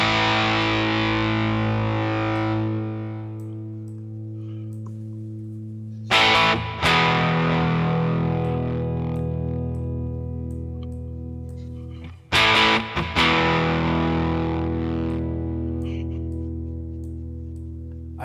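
Electric guitar played through a Blues Driver overdrive effect on a NUX MG-30 multi-effects unit, gritty sustained chords ringing and decaying, restruck twice with sharp attacks, no voices.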